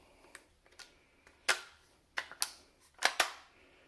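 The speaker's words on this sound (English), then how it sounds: "Now it clicks nice and firmly." Metal and polymer parts of a KWA TK45C airsoft pistol click sharply as the bolt is worked and snapped firmly into place, a close sequence of several crisp clicks in uneven clusters with quiet between.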